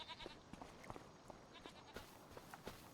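Sheep in a pen bleating in the video game Farming Simulator 25, short scattered bleats and shuffling sounds, quiet and close, with no speech.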